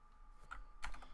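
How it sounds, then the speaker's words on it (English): A few keystrokes on a computer keyboard, two brief clusters of clicks roughly half a second apart, close and fairly quiet, with a steady faint hum underneath and no talking. "type RUN, run, click that"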